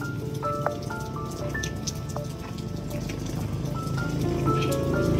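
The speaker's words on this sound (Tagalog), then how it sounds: "Grabe po ang ulan, oh." Heavy rain pours steadily, a dense hiss of drops drumming on surfaces with scattered louder drips, continuous and close, slightly building toward the end.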